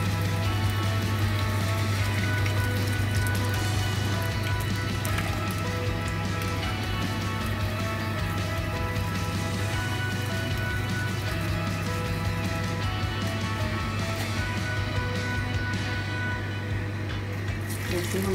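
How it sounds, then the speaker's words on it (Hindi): Potato cheese nuggets frying in oil make a steady, dense sizzle and crackle that carries on evenly throughout, close by and with no talking. "नगेट्स को फ्राई कर लेंगे।"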